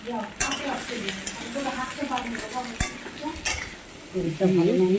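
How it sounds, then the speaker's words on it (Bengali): Potatoes added to a pan with ginger and onion are stirred and fried: a close sizzle with repeated spatula scrapes and clinks against the pan, and faint background voices. "এবার দিয়ে দিলাম আলুগুলো,"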